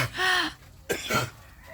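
A few short, raspy coughs from a dog, close by, separated by brief pauses with faint rustling in between.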